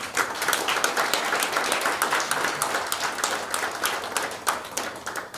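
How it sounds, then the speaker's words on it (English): Sustained applause from a lecture audience at an inaugural university lecture, dense steady clapping filling the room for several seconds with no speech over it. "I think he deserves another clap."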